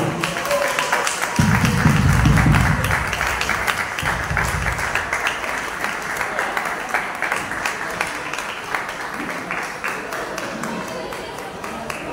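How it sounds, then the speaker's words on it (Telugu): A church audience claps to welcome a visiting pastor, with a steady wash of applause running through the scene while a voice speaks over it. "మనందరం కూడా చప్పట్లు కొట్టి అతనికి స్వాగతం చెప్పాలి"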